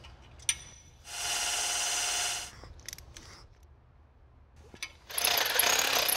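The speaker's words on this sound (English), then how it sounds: "Now use oil when tapping the hole, or you could risk breaking it off in the block." A thread tap is worked into an oil passage in a '68 Mustang Fastback engine block, heard as two bursts of fast ratcheting clicks with scattered quieter tool clicks between them.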